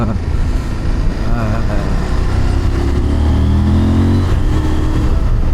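A CFMOTO 1000 MTX motorcycle engine revs up and holds a rising, throaty drone close by, steady and fairly loud with a low rumble underneath.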